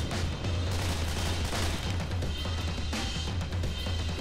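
Sustained gunfire from a firefight against zombies in Left 4 Dead 2, a loud, continuous wash of overlapping shots and rumble with no break and no talking over it.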